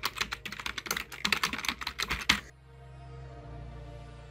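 Rapid keystrokes on a computer keyboard, entering name, address and email into an online trade licence renewal form, a close, busy burst of clicks lasting a couple of seconds before stopping, leaving a faint hum.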